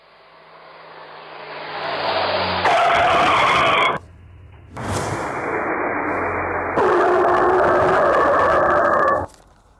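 A jeep in a road accident skids with harsh, loud tire noise in two long bursts, each swelling and cutting off abruptly, with no voices.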